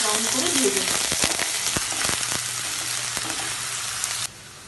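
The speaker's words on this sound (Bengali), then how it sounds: "এবার এটাকে হালকা নাড়াচাড়া করে নেব আর হালকা লাইট ব্রাউন করে ভেজে নেব।" Chopped onion fries loudly in hot oil, a dense close sizzle broken by several sharp scrapes of a stirring spoon against the pan, before the frying drops to a quieter hiss near the end.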